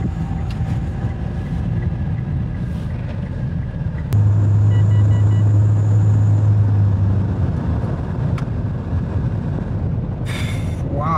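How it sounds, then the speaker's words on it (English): A Mitsubishi Outlander with newly replaced rear brake pads and rotors, heard from inside as a steady road rumble that swells while speeding up to about 80 km/h, followed by a braking stretch and easing noise. "what I want to do is speed up to around 80 km/h and then press the brakes and see if I have vibrations on the car"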